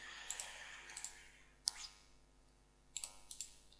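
A computer mouse clicks while saving a Windows 7 theme, giving several sharp, close clicks in small clusters over a quiet background hum, with no talking.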